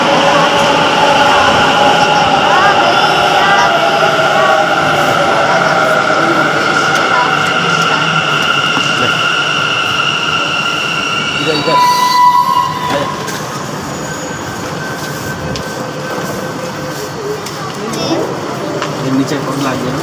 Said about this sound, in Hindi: और फिर तब तक मेट्रो ट्रेन आ चुकी थी।